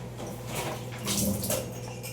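Fish curry comes to a boil in a clay pot, giving a soft, close bubbling and faint watery gurgle that rises briefly midway, with no voices.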